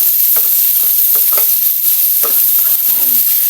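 Beef sizzles and fries in a little margarine in a pan, a loud continuous crackle with scattered stirring scrapes throughout.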